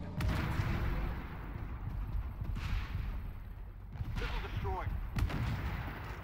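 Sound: missile fired at a Bradley in a video game

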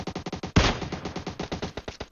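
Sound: gunshots in the video game PUBG Mobile

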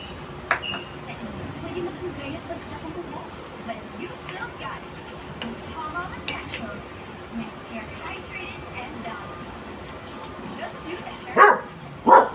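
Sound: dog barking

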